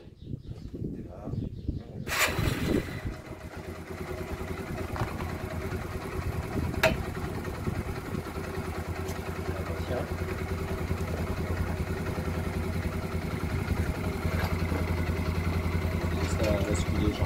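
Yamaha XT125X motorcycle engine cranks into life after a brief quiet moment, then settles into a steady, close, continuous idle with a faint mechanical clatter.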